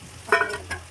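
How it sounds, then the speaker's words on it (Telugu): Egg curry fries in a pan, seasoned with pounded onion and chili, giving a brief close sizzle and a couple of stirring scrapes that rise and fade within a second. "ఫ్రై చేసుకుని మిక్స్ చేసుకోవాలి."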